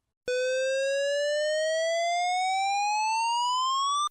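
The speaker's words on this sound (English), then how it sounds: "This is the evacuation signal." A building evacuation alarm at 235 St Georges Terrace sounds as one loud, continuous electronic tone that sweeps slowly upward in pitch for about four seconds, with no voices over it.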